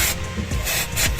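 Hardened engine oil being scrubbed off the solenoid of a DA64W turbo wagon's engine, giving a loud, continuous gritty scraping at close range with no talk.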